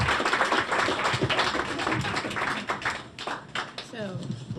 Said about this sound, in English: So give yourself all a round of applause.